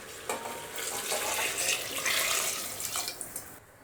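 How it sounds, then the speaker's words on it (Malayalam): Hot water pours steadily into a pressure cooker holding three cups of rice for chicken kabsa, four and a half cups in all. The splashing and gurgling stream runs close and continuous, then cuts off near the end. "നാലര കപ്പ് വെള്ളമാണ് എടുക്കുന്നത് അത് ഇതിലേക്ക് ഒഴിച്ചു കൊടുക്കാം"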